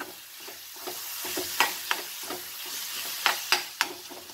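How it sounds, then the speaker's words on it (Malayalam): Crumbled paneer burji being stirred in a frying pan: repeated sharp spatula scrapes against the pan over a low sizzle, close and fairly loud, with no speech. "നന്നായിട്ടൊന്ന് നമുക്കൊരു 5 മിനിറ്റ് ഒന്ന് ഇളക്കി കൊടുക്കാം."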